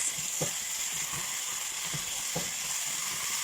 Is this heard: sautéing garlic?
yes